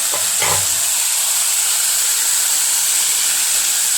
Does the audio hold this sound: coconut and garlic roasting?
yes